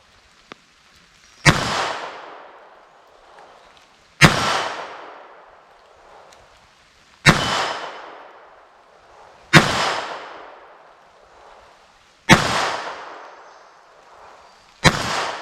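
A handgun firing 40 grain ammunition at a steel plate 25 yards away at an outdoor range, with five loud, evenly spaced single shots about three seconds apart, each followed by a ringing decay.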